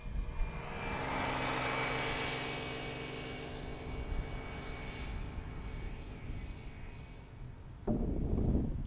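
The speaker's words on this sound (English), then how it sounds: "Transavia 737 heading for Tenerife." A Transavia Boeing 737 jet bound for Tenerife takes off from Amsterdam Airport, its engines a loud, sustained broadband roar that holds steady for most of the clip before a sharper, closer surge near the end.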